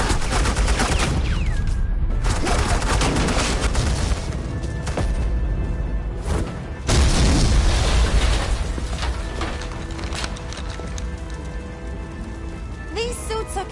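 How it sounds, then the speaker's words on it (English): Gunfire from suppressing fire in a Telltale Batman game scene, a loud, continuous crackle of overlapping shots running throughout, with brief gaps and speech mixed beneath. "Suppressing fire."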